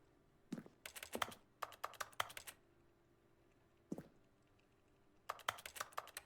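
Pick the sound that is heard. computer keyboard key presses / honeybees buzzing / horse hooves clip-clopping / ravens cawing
computer keyboard key presses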